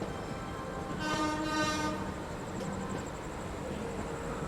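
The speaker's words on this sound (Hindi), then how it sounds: "ये पटना तेजस राजधानी का लोकोमोटिव आप देख लीजिए" The locomotive of the Patna Tejas Rajdhani runs nearby with a steady rail rumble and a faint tonal horn rising over the noise for a second or so.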